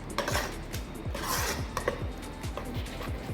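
Kasuri methi is stirred into jackfruit poori dough ingredients in a bowl, producing a quick series of clinking, scraping spoon-on-dish taps, close and fairly quiet.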